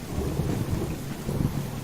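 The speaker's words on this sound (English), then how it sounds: "And of course it's a thunderstorm as well." Thunderstorm with heavy rain in the survival video game Subsistence, a continuous low rumble of thunder layered with steady rainfall, dense and loud with no voices.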